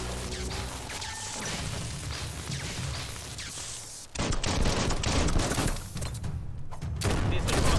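Rapid bursts of gunfire ring out in the action video game Biomutant, dense, loud volleys of shots layered with impacts and crashes, growing heavier partway through.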